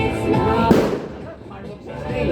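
New Year's Eve fireworks at BGC crackle and bang at a distance, with one sharper burst standing out, while a voice talks over the noise.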